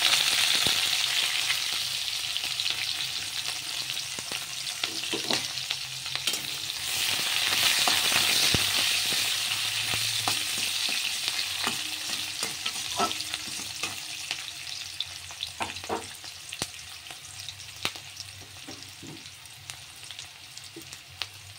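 Chopped onion frying in spiced oil in a pan, a steady close sizzle with intermittent stirring knocks and scrapes throughout, no talk.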